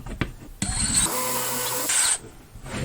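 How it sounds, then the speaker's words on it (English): A power drill whines steadily for about a second and a half as it bores a pilot hole for a nail in a wooden spice rack. A few clicks of handling come just before it, and the drill stops abruptly. "Pre-drilling at a slightly smaller diameter than the nail itself is, because obviously we want the nail to have some kind of grip"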